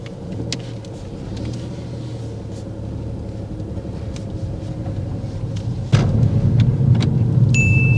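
A car on a driving test idles with a low rumble before its engine note rises and grows louder at about six seconds as it pulls away, with faint clicks and a brief electronic tone near the end.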